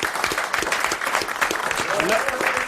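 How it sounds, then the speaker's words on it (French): Studio audience applauding a contestant on a 1995 French television game show, dense steady clapping with a voice speaking over it. "Applaudissements et mandats pour Madame Varin."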